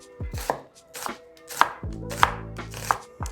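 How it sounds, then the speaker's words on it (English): A knife chops an onion on a cutting board, about ten quick, uneven strikes close by with no voices. "I keep practicing my chopping skills and I try to be as fast as possible"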